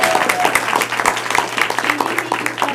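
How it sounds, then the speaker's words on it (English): Applause from a team meeting audience voting by clapping: dense, continuous hand clapping throughout, fairly loud and close, with a few voices faintly mixed in. "So by a show of clapping, did Angie win this round?"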